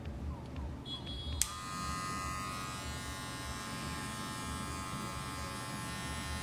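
Electric hair clippers buzz steadily and close, their blade tips trimming the edges of a man's hair in a classic men's cut, with a click as the motor starts and then an even hum throughout.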